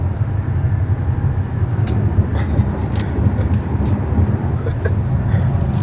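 Inside a moving car, a steady low road rumble fills the cabin, with a few faint ticks and clicks scattered over the constant drone.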